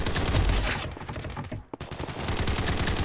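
A minigun in an online shooter video game fires loud, dense, rapid bursts, with a brief break in the middle before the firing resumes.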